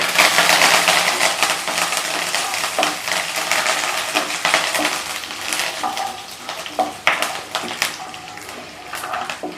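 Curry leaves and chillies fry in hot oil in a pan for idli upma. A steady, close sizzle carries intermittent crackles and spoon-stirring scrapes throughout.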